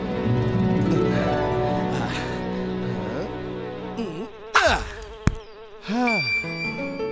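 Bees buzzing around collected honey, a steady insect drone under layered cartoon music with bell-like chimes and sliding effects, no talk.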